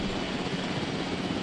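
A helicopter flies in Jurassic World Evolution, a dense, steady rotor and engine roar that fills the whole moment at constant loudness with no voices.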